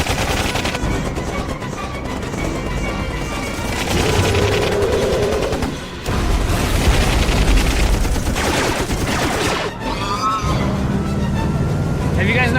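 Rapid gunfire from soldiers in a Sonic animation, loud bursts layered with dramatic music and effects over the whole stretch, with a brief drop near the middle.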